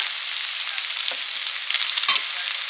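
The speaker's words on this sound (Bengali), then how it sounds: "ভেজে রাখা নতুন আলু পেঁয়াজ ভাজা হয়ে গেছে রসুন আদা" Pre-fried new potatoes and onions sizzle in a pan with garlic and ginger, giving a bright, steady crackle with two short stirring scrapes.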